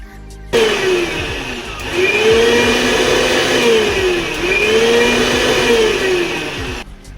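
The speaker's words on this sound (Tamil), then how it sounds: "நான் இங்கே துருவிட்டு அதுக்கப்புறமா ஜாரில் ஆரஞ்சு ஜூஸ் கூடவே போட்டு நல்லா அரைச்சிக்க போகிறேன்" An electric blender grinds grated orange with orange juice in its jar, starting abruptly and whirring loud and close in rising and falling surges, then cutting off near the end.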